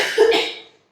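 A feverish child coughs once, close and fairly loud, a short harsh burst that quickly trails off into silence.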